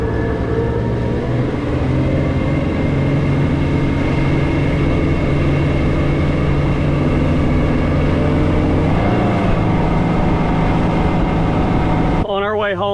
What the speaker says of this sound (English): break in this engine